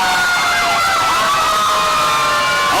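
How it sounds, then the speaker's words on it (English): Loud wailing sirens at the start of a Christmas parade in Ponchatoula sweep up and down continuously, several overlapping, close by and drowning out everything else. "You can't hear anything over the sirens."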